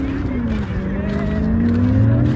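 A vintage car engine drives past on a Pune street, a steady low drone that swells slightly as it approaches, with voices talking over it nearby.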